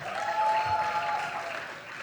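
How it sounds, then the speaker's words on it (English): An audience claps steadily at a Women in Entertainment event in India as a speaker is welcomed to the stage, a dense continuous wash of applause lasting a couple of seconds. "Please give her a round of applause and welcome her to the stage."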